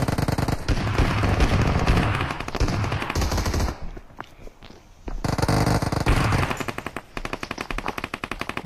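Rapid automatic bursts from a UMP submachine gun in the mobile shooter BGMI, loud and close, rattling in long strings with a brief lull midway before the firing resumes.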